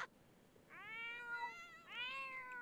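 Cats meow in The Sims 4, two drawn-out, tonal meows in succession, clear and fairly close over a quiet background.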